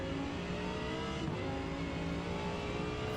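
An Audi R8 LMS race car engine in the Forza Motorsport video game holds a steady, loud, buzzing drone throughout, with no talking.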